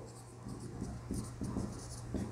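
Marker or chalk writing on a board during a Hindi-language political science lesson, faint scratchy strokes in short bursts, quiet and close in a room.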